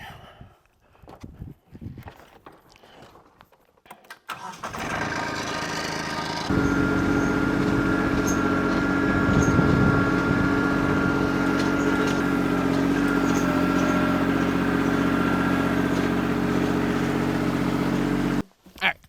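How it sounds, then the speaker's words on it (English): A heavy tractor engine rumbles steadily and loudly for most of the clip while moving dirt, starting after a few seconds of quieter clatter and cutting off near the end. "So we let the tractor do most of the work there."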